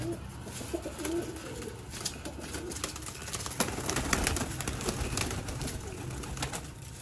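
Pigeons coo softly in a noisy outdoor setting, with scattered rustles and a busy background hum; no clear speech.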